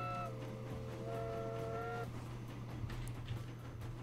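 A train in the video game Train Fever sounds two short whistle blasts, then rolls on with a low steady rumble and faint rhythmic clicks, quiet and alone throughout.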